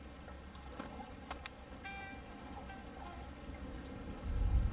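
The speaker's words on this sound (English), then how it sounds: "Man, it's really raining." Steady rain falls in Splinter Cell: Chaos Theory at a lighthouse, making a dense, continuous patter with a few sharper drips on top. A low rumble swells near the end.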